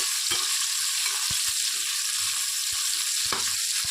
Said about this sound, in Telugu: కొబ్బరి కూడా కొంచెం కలర్ చేంజ్ అయ్యేదాకా మంచిగా ఫ్రై చేసేసుకుందాం